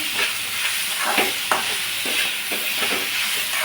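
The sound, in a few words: onions sautéing with salt and asafoetida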